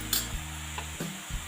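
A spoon scrapes through turmeric, coriander and red chili powder in a cooking pan for an eggplant and fenugreek curry, giving a few quick stirring strokes over a low, steady background hum.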